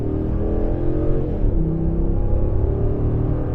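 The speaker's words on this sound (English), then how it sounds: "I like the sound of the engine too." A Dodge RAM 1500 Classic Crew Cab pickup with a Hemi engine runs with a loud, close, steady rumble and slight rises in revs, with no voices over it.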